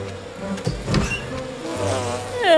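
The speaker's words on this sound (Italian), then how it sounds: "Le api rimarranno tranquille per un po' di tempo." Bees buzz steadily in an animated PAW Patrol cartoon scene about moving a hive, the droning swelling and fading in close range with soft background music.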